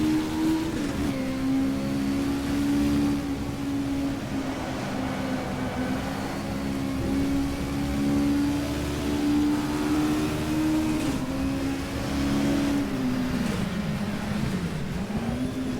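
A 1980s BMW M3 race car in GTR2 at the Nürburgring during a 1987 WTCC race, engine droning steadily at high revs with shifting pitch through gear changes and a dip near the end, loud and close.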